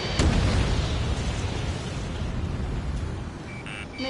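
Explosions and artillery fire in the combat flight game Ace Combat 7: Skies Unknown, a loud boom followed by dense sustained rumbling blasts, with faint electronic beeps near the end.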